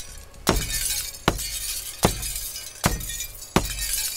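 Glass panes shatter in the video game Rising World, five sharp breaking crashes at steady intervals under a constant background hiss, each burst loud and close.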